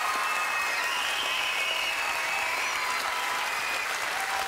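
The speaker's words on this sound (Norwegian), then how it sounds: "En varm applaus for denne flotte karen." A studio audience at a 2011 Idol Norge elimination show gives warm applause, a dense, even wash of clapping that holds steady and loud from start to finish.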